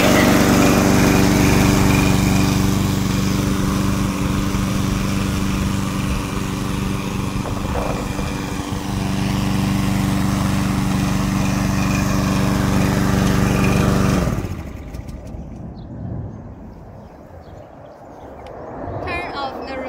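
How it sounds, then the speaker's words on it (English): A gasoline engine on a Vigorun VTW550-90 remote-controlled wheeled grass cutter drones loudly and steadily nearby, then drops abruptly to a lower, quieter idle toward the end. "Press this button to start the gasoline engine."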